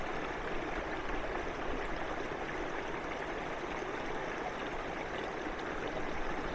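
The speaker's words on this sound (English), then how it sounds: "I'm just shooting this little waterfall on the Barnum Creek" A small waterfall on Barnum Creek splashes and rushes steadily nearby, a constant broadband wash of falling water with no voices.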